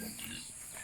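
A pig grunting and snorting nearby in a brief, continuous burst on a rural farm, with faint farmyard background noise.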